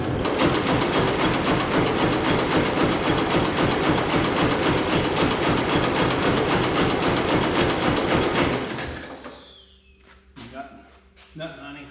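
A Hesston 140 Front Runner garden tractor engine cranks over continuously for about eight seconds without starting, a loud, rapid, chugging drone that then cuts out, followed by a few clanks and some quiet talk.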